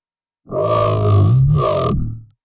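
A heavy, distorted synth bass squashed by an OTT multiband compressor: one sustained, buzzing note with a short break and a pitch bend, loud and close, with no voice.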